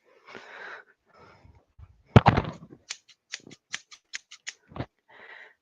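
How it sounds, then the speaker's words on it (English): Scissors cutting, a run of sharp separate snips in a quick uneven rhythm, close and clear, with some breathy noises and rustling before them and no talk. "Sounds like a pair of scissors"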